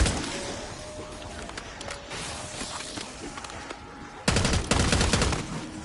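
Machine gun fire in Black Ops 6 Zombies on Liberty Falls, with dense sustained gunfire throughout and a sudden louder, rapid burst near the end.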